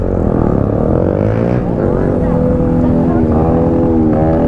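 Several motorcycles on a group Sunday morning ride, their engines droning loud and close in a continuous blended roar with rising and falling revs, while a voice talks over them.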